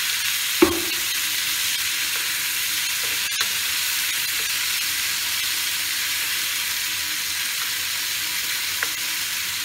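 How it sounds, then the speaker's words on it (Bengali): Wallago catfish pieces frying in a pan: a steady, even sizzle and hiss fills the scene, close and constant, with a single sharp clink near the start and a couple of faint taps later. "মাছটা ভাজা ভাজা হয়ে এসছে।"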